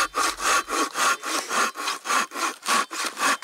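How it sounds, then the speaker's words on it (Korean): A hand saw cuts through wood at an old rural house, with steady back-and-forth strokes about three per second, close and rhythmic, and no voices. "톱질도 그중 하나입니다"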